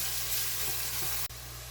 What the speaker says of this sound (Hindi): इसमें एक लार्ज प्याज, इसको पहले हम फ्राई कर लेंगे